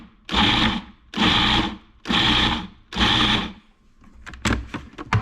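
Food processor pulsing bolognese sauce ingredients: four loud, evenly spaced whirring motor bursts of under a second each, followed by lighter knocks and clatter.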